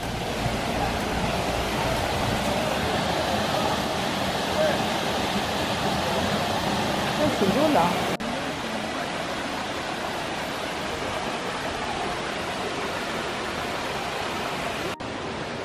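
Waterfall at Sillans-la-Cascade in Provence, a steady broadband rush of falling water that fills the whole clip, loud and close at first, then slightly softer after an abrupt cut midway.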